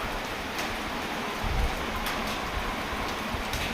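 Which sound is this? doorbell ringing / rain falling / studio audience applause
rain falling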